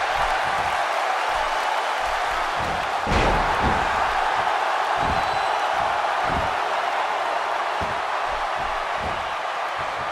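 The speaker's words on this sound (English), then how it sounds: "by the sound of this crowd, I think they're getting what they wanted." A wrestling arena crowd in the WWE 2K16 video game roars steadily throughout, with repeated thuds and slams of in-ring impacts punching through the constant cheering, loud and close.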